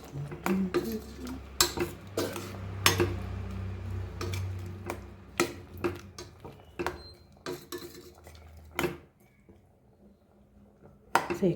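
A metal spoon scrapes and clinks against a pan while an onion and prawn curry is stirred. The knocks are irregular and close over a low sizzle, and the stirring eases off toward the end.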